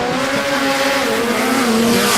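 Drag car at the Garrett Brisbane Jamboree, an Australian sports compact event, launching down the strip after staging with no burnout: a sustained loud engine drone with rising tonal whine, close and steady, no voices.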